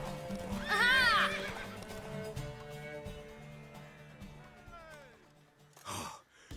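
A horse in The Witcher 3: Wild Hunt gives a loud, close whinny near the start, with clip-clop hooves and game ambience beneath and a short breathy snort near the end.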